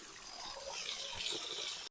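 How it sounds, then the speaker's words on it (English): Steady splashing and trickling water from a small garden water feature by a pond, close and continuous, a soft broadband rush that cuts off abruptly at the end. "Zoom in on this little water feature."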